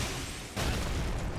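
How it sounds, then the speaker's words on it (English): A deep booming impact in the Elden Ring video game, a sudden loud wide blast that swells and holds for about a second, heard alone without talk. "why did that sound like a nuclear explosion?"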